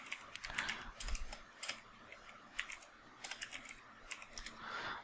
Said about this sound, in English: you just have to type ifconfig on your terminal